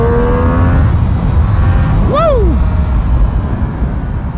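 A loud 2017 Triumph Street Triple 765 RS motorcycle engine roars past close by, its pitch climbing then swooping down in a quick Doppler sweep over steady mechanical rumble.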